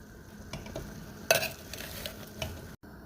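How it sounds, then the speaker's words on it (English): Rinsed shell-on shrimp with tails still attached go into a pan, giving a brief sharp splash and rustle, then a quiet sizzle and stirring, close by, with no talk. "Now we're going to add in our shrimp that we rinsed."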